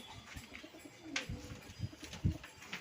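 Pigeons kept for breeding coo softly nearby in a series of low throaty calls, with a little rustling in between and no talk.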